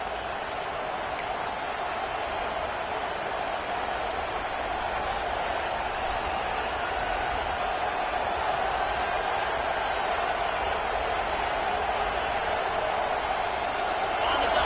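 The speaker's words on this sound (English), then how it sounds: "listen to this crowd coming through" Football stadium crowd roaring in a steady, dense wash of cheering and noise throughout, broad and sustained with no pauses, a commentator's voice faintly under it.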